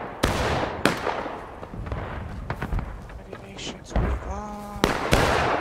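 Musket gunfire in the Civil War shooter War of Rights, several sharp broadband cracks spaced irregularly across the scene, some near and loud, with voices talking and a brief tonal whistle mixed in.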